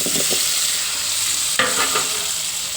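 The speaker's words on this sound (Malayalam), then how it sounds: "ഈ തക്കാളിയുള്ള വെളിച്ചെണ്ണയിലേക്ക് ഈ തക്കാളി അങ്ങ് ഇട്ട് കൊടുക്കും" Tomatoes dropped into hot coconut oil in a pan, a loud steady sizzle and frying crackle with a sharper burst of spattering midway, no talking.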